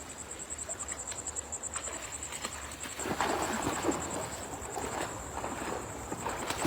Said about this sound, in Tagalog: Marami po yung lumilipad na insects.